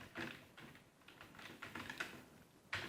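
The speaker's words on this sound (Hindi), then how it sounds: "अब मैं टाइपिंग शुरू करने जा रहा हूँ।" Keystrokes on a computer keyboard during Hindi typing practice, a close, quiet run of irregular clicks and taps with short pauses between bursts.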